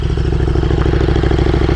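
A 2022 KTM Super Duke R idles with its exhaust valve wide open, giving a loud, close, steady rapid-pulsing thump with a rough mechanical rattle on top.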